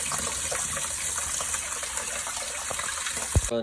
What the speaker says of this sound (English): You do want to let the water run for a minute.